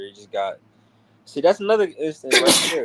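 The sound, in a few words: sneeze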